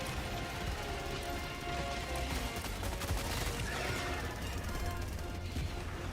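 Continuous rapid gunfire from a Gatling Sentry in Helldivers 2, a dense unbroken barrage of shots with crashing impacts mixed in, loud and sustained throughout.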